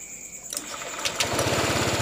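A Honda Vario 150 scooter engine is restarted after repair work: a short starter whir, then the engine catches and settles into a steady, rapid idle putter, loud and close.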